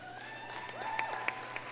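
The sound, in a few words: audience applause at union convention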